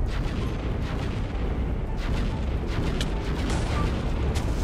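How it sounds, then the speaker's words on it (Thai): A rapid-fire missile bazooka in a Minecraft gun mod, launching a steady barrage of booming shots and blasts that overlap into continuous loud rumbling with sharp bursts throughout. "ยิงรัวได้ด้วยฮะ ทำเป็นเล่นไปโอ้ปืนบาซูก้าอะไรวะเนี่ยมันยิงรัวขนาดนี้โหเหมือนเรายิงขีปนาวุธฮะ"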